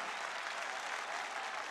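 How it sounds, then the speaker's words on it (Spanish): A crowd at a freestyle rap battle in Peru claps in a dense, sustained burst of applause, steady and full throughout with no distinct voices on top. "¿Dónde están las palmas para ellos dos?"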